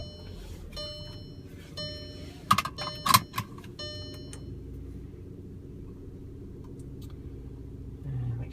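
A 2015 Audi Q3 Prestige 2.0T Quattro with an automatic transmission and about 517 miles on it gets ready to start: chimes tick repeatedly, keys click, and the engine settles into a low, steady idle rumble.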